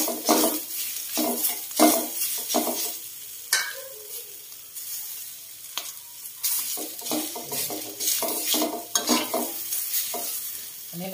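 Scallion flowers stir-fried in a full wok, with a steady sizzle broken by repeated scraping strokes of a spatula against the metal, close and fairly loud.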